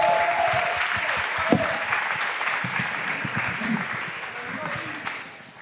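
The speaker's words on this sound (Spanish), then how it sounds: "Un fuerte aplauso para Matías, por favor." Audience applause at a year-end concert of a music school, steady clapping that fills the whole stretch at even loudness, with a few voices calling out in the crowd.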